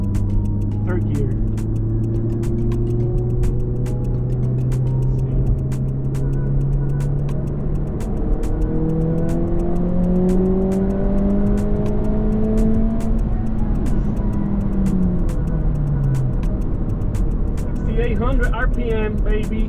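Engine of a 2022 Honda Civic 11th gen with a Stage 1.5 tune revving hard through third gear, rising pitch climbing steadily then dropping near the end, loud and continuous close up inside the car with excited voices.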